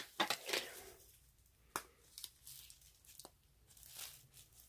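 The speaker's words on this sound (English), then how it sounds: "Here, why don't you rip the tape?" Packing tape ripped off a mailed package box, a few short quiet tearing and crinkling bursts near the start, then sparse faint rustles and handling noises, with no talk.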